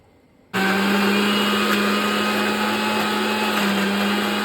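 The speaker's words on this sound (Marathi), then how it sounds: "आता आपण यामध्ये थंड पाणी घालून हे एकदा फिरवून घेणार आहोत" After a brief quiet moment, a mixer grinder starts abruptly and whirs loudly and steadily, churning cream with cold water into butter without pause until the end.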